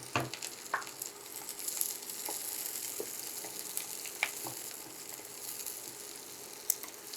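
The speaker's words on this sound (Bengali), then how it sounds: "এখন আমি পেঁয়াজ দিয়ে দিচ্ছি" Chopped onions sizzle and crackle as they hit hot oil in a pan with lightly fried garlic for a leafy greens bhaji, a steady close frying hiss with scattered pops running throughout.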